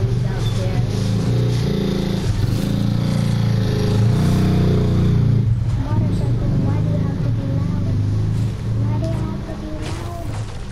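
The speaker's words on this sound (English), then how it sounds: "Motorcycle, why do you have to be loud?" Motorcycle engine in Fortnite droning loudly and continuously under a player's ongoing talk, revving up and down throughout.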